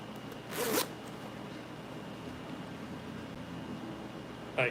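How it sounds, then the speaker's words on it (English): A zipper on a sewn t-shirt is pulled in one quick, loud zip near the start, followed by a much shorter, fainter zip at the end against a steady background hiss. "Like that zipper, no button."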